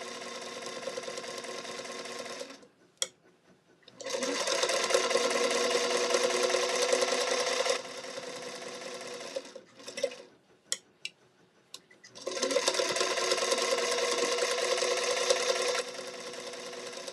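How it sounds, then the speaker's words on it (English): Sewing machine stitching regular muslin fabric, two long steady runs of rapid mechanical whirring separated by short pauses with small clicks and taps, close and clear with no talking. "I'm going to sew almost all the way around."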